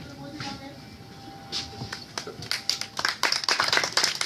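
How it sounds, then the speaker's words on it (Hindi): An audience welcomes a singer onto a stage: a few scattered claps at first grow into denser, louder applause in the last couple of seconds, with voices faintly mixed in. "जोरदार तालियों के साथ उनका स्वागत करते हैं।"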